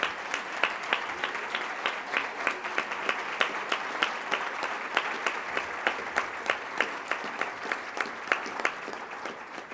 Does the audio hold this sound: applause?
yes